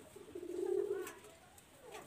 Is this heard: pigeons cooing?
yes